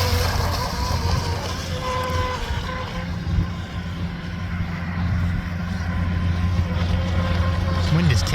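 Stealthwake R/C boats running a 2-cell LiPo battery on open water on a breezy day: a continuous, moderately distant motor hum with small pitch swings, carrying on steadily throughout with wind noise behind it.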